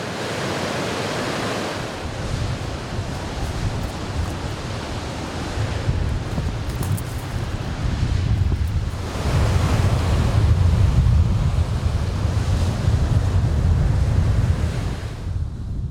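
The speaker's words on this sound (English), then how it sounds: "But you can sure hear the ocean." Ocean surf rolling onto a foggy beach near Crescent City, California, a steady broad wash of breaking waves with wind buffeting the microphone, swelling louder in the second half.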